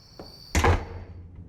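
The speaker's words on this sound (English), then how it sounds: "Slamming the door, Erik?" A door slams shut once with a loud, heavy thump, followed by a brief fading rumble in an otherwise quiet house.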